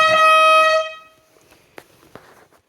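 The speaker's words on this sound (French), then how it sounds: "Puis bien sûr, ici, on a mon klaxon" A small two-door car's horn honks once, loud and close, a single sustained blast of nearly a second, followed by quiet handling noises and faint clicks.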